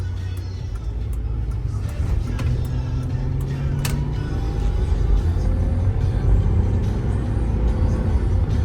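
A 2008 Ford Edge AWD on the road, heard from inside the cabin: a steady low engine and road hum with tire noise that builds slightly over the stretch, with no distinct gear change standing out.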